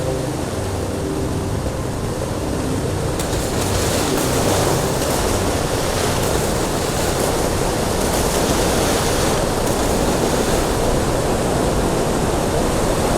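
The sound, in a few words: waterfall in the video game Star Trek Online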